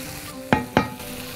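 Chicken frying in a pan with ginger, garlic, green herbs and colorful peppers, stirred with two quick scraping strokes over a low steady sizzle, close and moderately loud.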